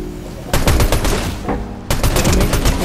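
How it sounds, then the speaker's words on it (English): A shotgun fires in Fortnite, two loud close bursts of rapid blasts separated by a short pause, with no talk during the shots. "I have an ulti shotgun."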